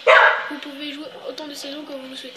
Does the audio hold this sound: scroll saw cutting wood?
no